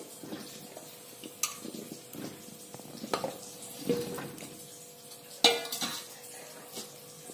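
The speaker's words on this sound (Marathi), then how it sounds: "हे सगळे आवळे त्याच्यात टाकून थोडं 2 ते 3 मिनिटं उकळून घ्यायचे ते." Amla gooseberries tumble into a pot of boiling water with clinks and knocks of metal on metal over a steady bubbling hiss, heard close with no talk.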